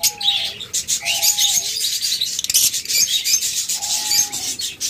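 A pair of Fischer's lovebirds, olive and yellow, kept for sale, gives loud rasping chirps and scratchy chatter close by, with a few brief tonal whistles in between.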